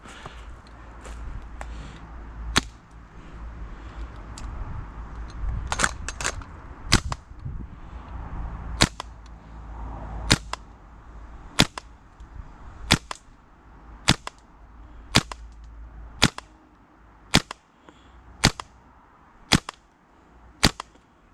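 Shots from a modified PP2000 gas blowback airsoft SMG during a chronograph test ring out as single sharp cracks spaced a second or two apart, with some low handling rumble between them and no voices.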